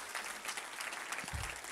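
A church congregation applauds its pastors, a steady, fairly faint wash of many hands clapping throughout with a low thump near the end.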